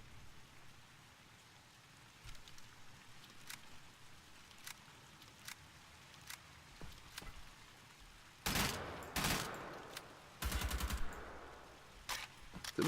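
Burst-fire gunshots in the video game Wolfenstein: The Old Blood, sharp clusters of rapid shots late on, after scattered faint clicks and pops over a quiet background.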